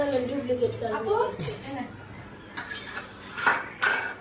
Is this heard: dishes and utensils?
yes